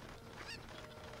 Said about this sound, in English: Should I use this chicken?